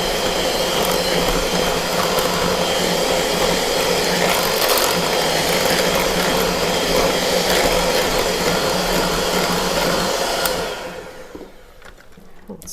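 An electric mixer whirs steadily and loudly, mixing granulated sugar and vanilla extract for a berries and cream French toast casserole, then cuts off near the end.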